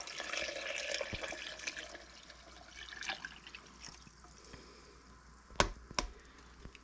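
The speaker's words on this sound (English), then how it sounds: "Now I got some water, dump it in there." Water is poured from a container into a kitchen blender holding a morel mushroom, a faint splashing trickle that fades, followed by a couple of sharp knocks with no talking.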